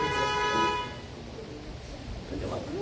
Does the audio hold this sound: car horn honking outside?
yes